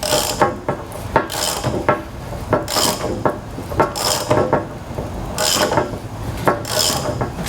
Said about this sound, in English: Notice while I'm compressing this with any spring compressor, you don't really want to be in front of the spring compressor